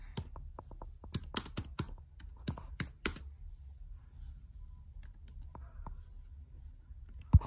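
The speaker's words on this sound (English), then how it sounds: "let's just do an awkward scene of typing" Typing on a computer keyboard: bursts of sharp, close key clicks in an irregular rhythm, busy at first and then thinning to a few scattered taps, with no talk.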